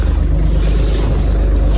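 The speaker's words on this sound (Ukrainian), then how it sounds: "Трактор рухається" A Kubota KT-24 mini tractor drives along in low gear, its engine giving a steady, loud, low rumble that is close by and continuous, with wind buffeting the microphone throughout.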